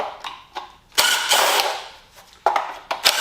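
A ratchet works the timing cover bolts on an Evo 4G63T engine: short bursts of quick clicking with a pause between them, close up and fairly loud, and no voices.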